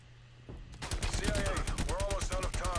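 Bursts of rapid automatic fire from a C58 rifle in a shooter video game, a loud sustained volley of sharp cracks after a brief quiet start.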